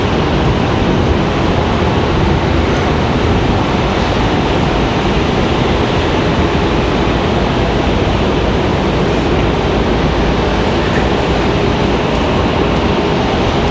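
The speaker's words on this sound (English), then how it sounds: "The sound of the planes, the thunder." Jet airliners at Raleigh-Durham International Airport produce a loud, continuous roar of engines, a broad steady thunder lasting throughout with no voices.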